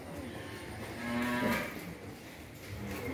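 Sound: cattle and calves mooing on Long An breeding farm

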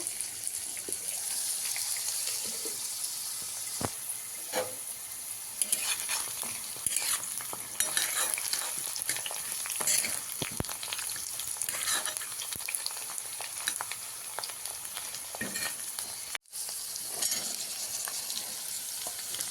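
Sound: potatoes frying in a covered pan

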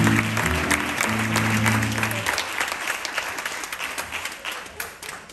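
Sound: audience applause at flamenco show

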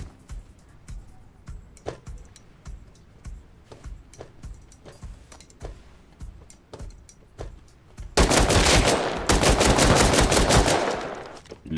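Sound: gunfire in the video game Rust

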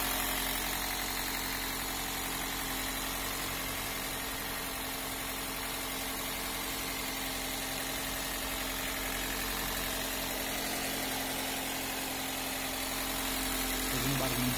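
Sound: 2009 Toyota Corolla engine idling

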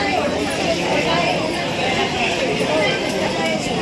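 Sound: crowd bustle at Saphale railway station

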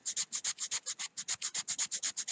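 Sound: sanding hand-carved wooden fishing lure with sanding cloth

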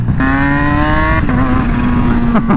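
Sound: Kawasaki H2 motorcycle engine revving with the throttle

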